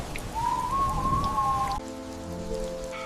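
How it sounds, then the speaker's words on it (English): Rain falls steadily on the alpine village of Grindelwald, Switzerland, an even, close hiss of drops on surfaces with a brief whistling tone early on and no voices. "The rain teaches patience, one drop at a time."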